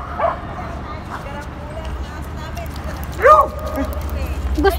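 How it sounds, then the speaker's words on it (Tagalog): A dog barks in short outdoor bursts over a steady low rumble, with a louder yelping bark near the middle and fainter yips around it. "Stop barking."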